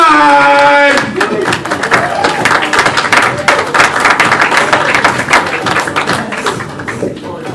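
A comedy club crowd greets host Kevin Dodd with loud, sustained applause and clapping after a shouted introduction at the start, with cheers mixed in throughout.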